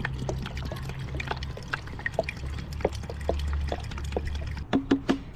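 Cleaning liquid poured into the radiator of a Pontiac Grand Prix under restoration, a steady low gurgling pour that runs for several seconds before a few sharp knocks and clunks near the end.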